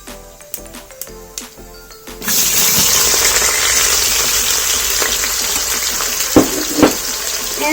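Chopped onion hits hot oil with cumin seeds in a pan: a few light clinks come first, then a sudden loud, hissing sizzle that holds steady, with a couple of utensil knocks near the end.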